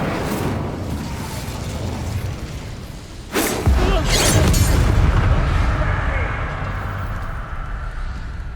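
An Incendio fire spell cast in the video game Hogwarts Legacy, a sharp whooshing burst that flares into a loud, roaring rumble and then lingers under game ambience.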